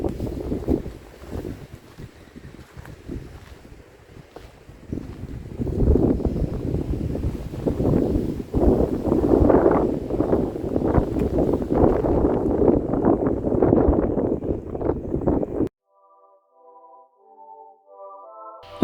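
Rainy wind gusts across a Douro valley viewpoint in Portugal, a steady loud rushing and buffeting against the microphone that swells midway, then cuts abruptly to near silence near the end.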